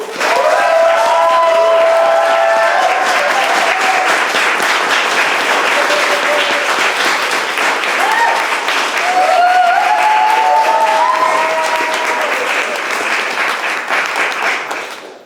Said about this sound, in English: Please make so much noise for Marianne Chan